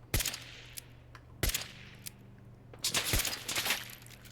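Vintage revolver rifle firing in Fallout 4, with sharp, loud shots at wide intervals and a cluster of blasts near the end, over a low steady game hum.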